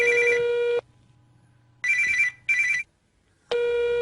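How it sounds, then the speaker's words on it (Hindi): A mobile phone rings with a loud electronic ringtone in bursts separated by short pauses, with no voices over it. "ये तुम्हारा फोन बहुत देर से बज रहा है"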